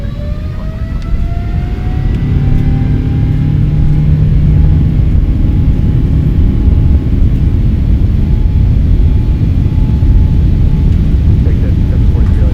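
A Boeing 777-300ER taking off from Minneapolis makes a loud, sustained jet roar with rising engine whine throughout, and radio-style voices can be heard over it.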